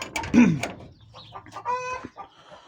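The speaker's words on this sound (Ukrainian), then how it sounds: "кури кукурікають" Chickens cluck in quick, uneven bursts, and a rooster crows, the calls close by and fairly loud.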